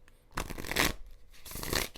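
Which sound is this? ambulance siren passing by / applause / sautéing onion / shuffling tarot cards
shuffling tarot cards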